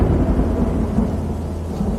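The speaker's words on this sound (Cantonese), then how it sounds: "落雨啦，快啲行！" On a mountain hiking trail, a deep rolling thunder rumble continues for the full two seconds with rain hissing beneath it, loud and close.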